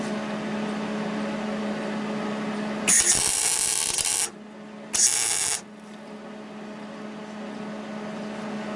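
An RC lawn mower's frame is being welded. Two crackling bursts of the arc, a longer one followed by a shorter one, stand out against a low background hum.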